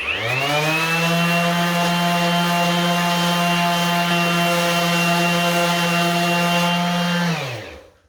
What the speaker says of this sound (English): Let's try and sand there.